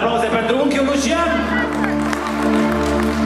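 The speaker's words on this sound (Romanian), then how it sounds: "încă o dată aplauze pentru unchiul Lucian!" Wedding guests break into applause and cheering for a band leader as he takes the stage, a dense crowd of clapping hands under a sustained musical tone, with voices mixed in.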